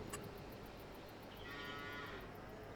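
Cows on a farm in the video game Farming Simulator give a drawn-out moo midway through, heard at a moderate distance over a low, steady background hum, with no talking.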